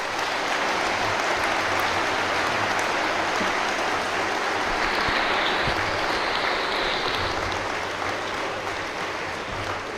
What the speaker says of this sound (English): One more round of applause for these gentlemen.